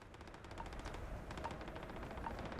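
Rapid automatic gunfire from target practice in the video game Starfield, a steady rattling burst running continuously for a few seconds at moderate, slightly distant level with no talk over it.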